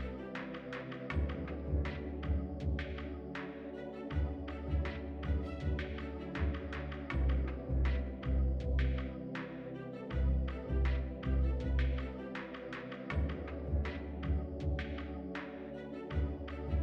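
A sewing machine stitches a cowl neck dress for a ball jointed doll, running in steady rhythmic bursts of fast mechanical tapping and humming, with short pauses between runs, close and fairly quiet.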